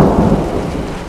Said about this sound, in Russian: гроза, гром гремит.